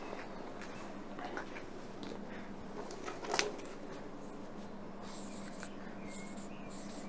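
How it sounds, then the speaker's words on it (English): Marker or chalk writing on a board in a classroom-style setting, a steady faint scratching with small squeaks and one brief louder stroke, heard alone without talk. "I'll write it on the board."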